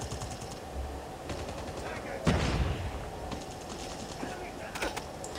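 AKM rifle gunfire in the mobile game Call of Duty Mobile, several sharp shot bursts over a continuous game soundscape, with one louder crack mid-way and people talking throughout.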